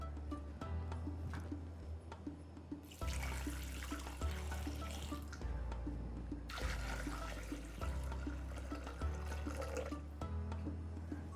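Water running steadily into a pot while making Sindhi kadhi, a faint splashing pour heard in bursts with brief pauses between them, close and quiet, with no talking.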